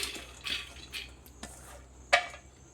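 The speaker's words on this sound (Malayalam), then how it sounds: "ആദ്യം നമുക്ക് കഴുകി വെച്ചിരിക്കുന്ന തുമരപ്പരിപ്പ് നമുക്ക് കുക്കറിലേക്ക് ഇട്ട് കൊടുക്കാം." Washed toor dal tipped into a pressure cooker for sambar, with a few soft clinks and scraping taps of metal utensils and one sharper clank near the end.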